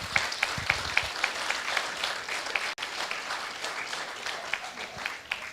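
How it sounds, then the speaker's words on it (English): A graduation ceremony audience breaks into applause, a sustained mass of clapping with a few sharp, distinct claps near the front, steady throughout with no voices on top. "Give them a round of applause."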